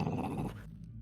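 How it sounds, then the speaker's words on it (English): A dog growls in a tabletop role-playing session set in The Last of Us, a short low rumbling snarl that fades after about half a second, followed by near silence. "And the dog growls."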